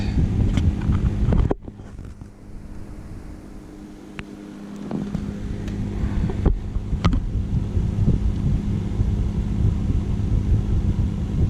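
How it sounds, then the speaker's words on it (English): A fan blows over a Weatherflow Sky weather station, making a steady, close rumbling rush of air. The noise dips briefly early on, then builds back to a constant roar. "Now we've got the wind reading with a fan blowing overhead."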